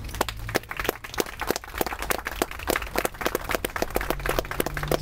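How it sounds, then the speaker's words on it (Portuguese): An audience claps for war veterans at a commemorative ceremony, a steady patter of many hands heard at moderate distance with no voices over it. "E a esses heróis saudamos com uma grande salva de palmas."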